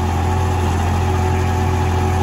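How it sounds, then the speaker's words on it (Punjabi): A tractor engine pulling a super seeder runs steadily in second low gear at 1800 RPM, a loud, even drone with a strong low hum and no change in pitch throughout. "ਦੂਜੇ ਲੋਅ ਵਿੱਚ ਚੱਲਦਾ ਹੈ ਜੀ ਟਰੈਕਟਰ"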